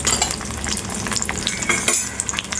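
Garlic cloves and shallots sauté in a pan for a red fish gravy, giving a loud, close sizzle with brisk scraping and stirring strokes throughout and no talking.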